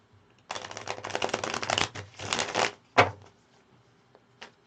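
Tarot cards being shuffled by hand in a few brisk riffling bursts, close and fairly loud, followed by a single sharp card tap and a faint later click, with no talking.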